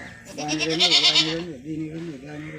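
Goats cry out in a long, strained bleat on a village farm after dogs killed their young, the wavering call fairly loud and close, with speech around it.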